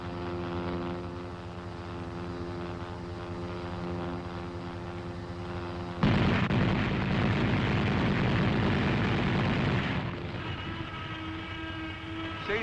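A .50 caliber machine gun fires from an M551 Sheridan armored reconnaissance vehicle, a loud rapid burst of dense shots cutting in over a droning vehicle engine, lasting several seconds before stopping.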